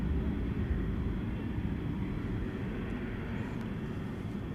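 A plane takes off at night at DFW Airport, its engines a steady, broad roar that holds loud and even throughout with no voices over it.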